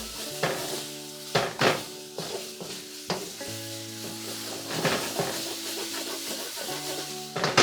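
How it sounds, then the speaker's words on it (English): Vegetable lo mein is tossed in a hot pan, with a steady sizzle broken by repeated clattering scrapes and knocks of a utensil against the pan. "Gonna give this a nice mix."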